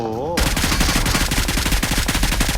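Rapid automatic gunfire from the PUBG Mobile video game, aimed at a buggy, erupts after a brief low electronic tone and continues as dense, loud bursts of shots without pause.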